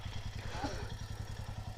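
A motorcycle engine, called the Hulk, idles close by with a steady low throbbing pulse and a light mechanical clatter, while faint voices murmur underneath.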